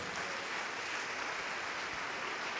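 A church congregation applauds in a soft, distant, unbroken wash of clapping that stays level throughout, with no talk over it.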